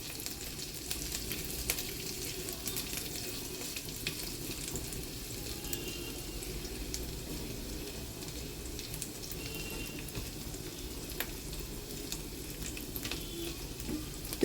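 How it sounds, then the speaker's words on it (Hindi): Ginger, green chilies and cumin frying gently on low heat, a steady soft sizzle crackling throughout with faint pops and no voices. "तो देखिए, हमने अदरक, हरी मिर्चें और ज़ीरा, ये सब चीज़ें थोड़ी देर भून लिए"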